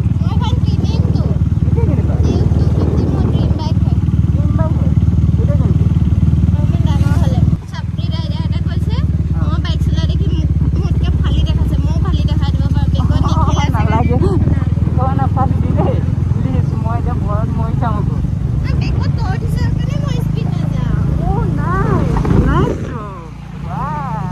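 A motorcycle is being ridden, its engine a steady loud drone throughout, with a brief drop in level partway through and again near the end; people talk and music plays faintly over the engine noise.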